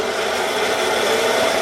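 A band saw cuts through metal with a continuous steady grinding hiss, held at constant loudness and close by, with no voices.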